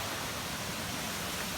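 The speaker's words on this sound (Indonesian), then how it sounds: "Nah ini dia di depan aku udah air terjun pusatnya yang besar." Steady, dense roar of a large waterfall in Laos, a continuous broadband rush of falling water that stays even throughout with no voices over it.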